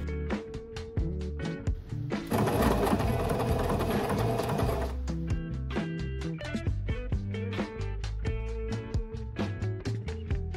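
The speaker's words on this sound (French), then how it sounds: "j'ai testé tous les points de broderie de ma machine à coudre" Home sewing machine stitching decorative embroidery stitches, a close, rapid mechanical clatter in quick rhythmic bursts, with a steadier continuous whirring run in the middle.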